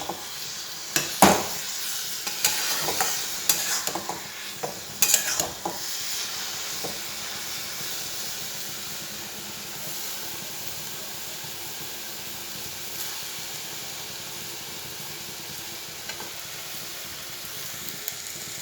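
Semolina pulao frying in a pan hisses steadily after a splash of water, with a few scraping stirs at the start and then a long, even sizzle settling down, close and alone.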